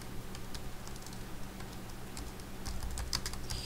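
Quiet, quick keystrokes tap on a computer keyboard in short irregular bursts, close and alone with no talking.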